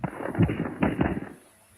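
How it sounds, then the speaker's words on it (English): Gunfire from more than one weapon cracks out in a cluster of sharp, moderately distant reports, several shots in close succession before fading into quiet. "The gunfire came from more than one weapon."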